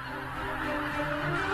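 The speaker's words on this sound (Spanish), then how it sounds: "los gansos abandonan el valle del Biebsa" Geese in the Biebrza valley wetlands honk as a flock gathers to leave, a continuous dense chorus of overlapping calls at steady loudness with no talk.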